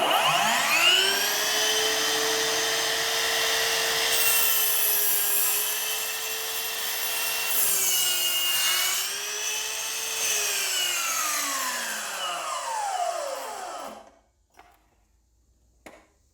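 A Ryobi slide compound miter saw cutting wood, a loud steady motor whine with the blade biting through the board, then the pitch dropping as it brakes to a stop, followed by quiet.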